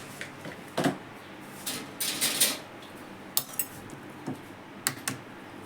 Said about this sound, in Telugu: కారం, ఉప్పు, అల్లం వెల్లిగడ్డ వేసి ఎగ్ అయితే కొట్టేస్తున్నా